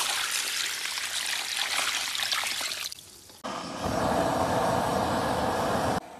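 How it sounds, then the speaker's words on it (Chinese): Water poured into a pot of chicken heads with scallion, ginger and a splash of cooking wine, a close, steady gushing stream lasting about three seconds before giving way to a duller, even rush. "加水。"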